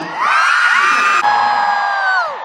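A concert crowd roars in a loud, sustained cheer with high whoops and yells layered over the swell, lasting a couple of seconds before it trails off.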